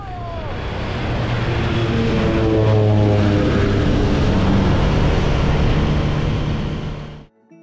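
A small 19-seat propeller plane on the Taitung–Lanyu route takes off close by, its engine drone swelling to a loud steady roar with a rising pitch before cutting away abruptly, no voices heard.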